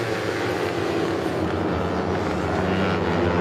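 Modified Yamaha R3 race motorcycles sweep into the corners at a track, a dense, steady engine roar with crackling and popping underneath that holds loud and continuous throughout.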